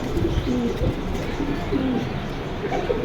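Pigeons cooing at a pigeon market at Jinjira Bazar, soft repeated low coos over a steady murmur of crowd background noise.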